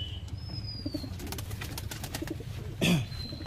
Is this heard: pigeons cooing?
yes